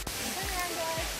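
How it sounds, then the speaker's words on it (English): Steady broadband roar of a waterfall behind rocks being hopped during a shore excursion in Thailand or Cambodia, with brief speech and low thumps over the continuous rush. "Waterfall's behind us."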